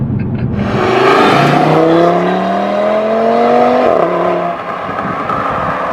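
Audi TT RS engine accelerating while driving, a loud continuous roar with rising harmonic pitch through two gear pulls and a brief shift dip, close and steady throughout.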